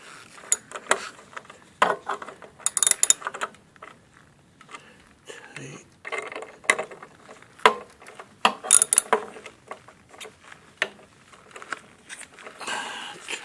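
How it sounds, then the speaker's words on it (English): A ratchet with an 8mm socket tightens hex bolts on an oil boiler: irregular bursts of close metallic clicking and clatter, with pauses between turns, and someone speaking now and then. "I've got the 4 hex bolts back in place and I'm just going systematically around tightening."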